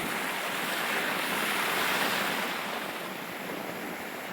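Ocean waves roll in by the sea, a steady full roar of surf with gusting wind across the microphone, swelling gently and then easing slightly, with no voices.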